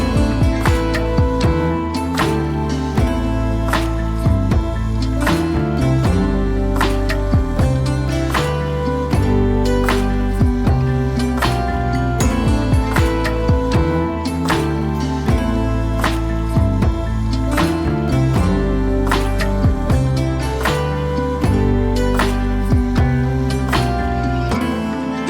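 A medieval-style chillhop loop for a Renaissance faire, with plucked and sustained instrumental layers over a steady hip-hop beat and background ambience, dense and loud throughout with no voices.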